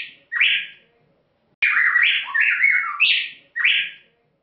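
A male and female songbird pair trade quick whistled duet phrases in alternation, one short call followed by a rapid run of interlocking notes, clear and close with brief pauses between.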